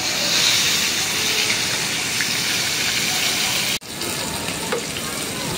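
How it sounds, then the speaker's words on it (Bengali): Golden carp fish fry in a pan of hot oil, giving a steady, fairly loud sizzle and hiss with a brief dropout partway through, no voices. "আমার এক পিঠ ভাজা হয়ে গেছে, সবগুলো মাছ উল্টাই দিব"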